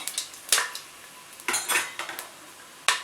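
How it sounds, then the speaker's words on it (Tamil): A metal spoon stirs fennel seeds and cinnamon sautéing in a pan for mushroom biryani, giving a few sharp, close metallic clinks and scrapes spaced irregularly over a quiet background. "சோம்பு பட்டை இதெல்லாம் போட்டுக்கோங்க லைட்டாக பொன்னிறமாகட்டும் நல்லா வதக்கி விடுங்க"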